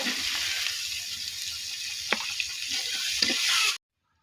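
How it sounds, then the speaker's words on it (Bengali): Chopped onions frying in a small amount of oil in a pan give a steady, close hiss, with a couple of brief knocks from stirring and no voices. "আর বেরবো পেঁয়াজ কুচি এগুলো দিয়ে এবার আমি লাল লাল করে ভেজে নেব"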